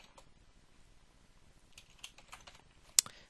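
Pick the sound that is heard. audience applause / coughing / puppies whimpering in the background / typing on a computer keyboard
typing on a computer keyboard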